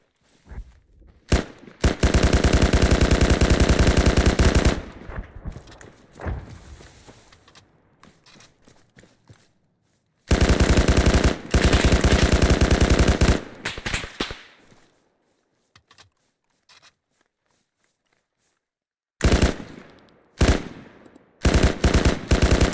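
Sustained machine gun bursts in the ARMA 3 military game, several long loud volleys separated by quieter gaps with scattered single shots.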